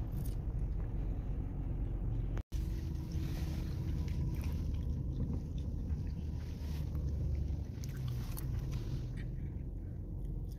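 Car being maneuvered into a parking space at a shopping mall in Kuwait, a steady low engine hum and road rumble continuing throughout with a brief dropout, no talking.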